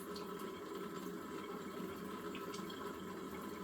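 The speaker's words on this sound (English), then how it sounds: "once you turn on the water like that, the water should be clean everywhere" Tap water runs steadily into a dish tub in a kitchen, a faint, continuous even rush with no pauses and no voices.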